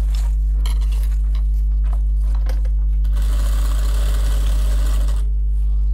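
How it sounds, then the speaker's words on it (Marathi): A sewing machine double-stitching a simple cloth shopping bag: a strong low motor hum under bursts of rapid needle chatter, loud and close, running continuously with a denser stitching stretch midway. "तर हे तीन इंचाचं मार्क आहे तिथे अशी डबल शिलाई"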